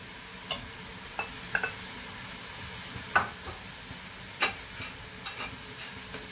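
Chicken thighs fry in a pan with onion, garlic and tomato, a soft steady sizzle under sparse, evenly spaced clicks and taps of a stirring utensil, close and fairly quiet.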